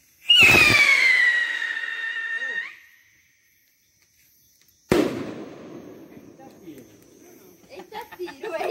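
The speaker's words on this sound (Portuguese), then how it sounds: "Lá vai mais um foguetinho, olha." A small firework rocket launched at a São João bonfire whistles up loudly for about two seconds, then after a pause a sharp bang cracks out, followed by crackling and faint voices.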